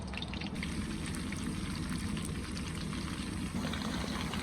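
Finely chopped onion dropped into hot oil in a home kitchen pan, giving a steady, loud broadband sizzle that runs continuously with small crackling bursts throughout, no voices.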